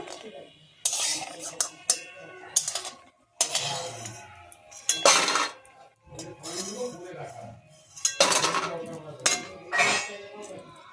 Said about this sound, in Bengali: এরপর আমি বড়িটা তুলে রেখে দেবো